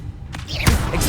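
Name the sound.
spell casting effects in video game Hogwarts Legacy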